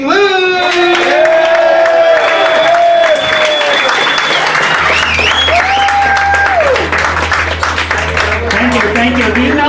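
A comedy club audience breaks into loud applause and cheering as a comedian is introduced, with a dense wash of clapping and whoops close by, a host's voice carrying over it.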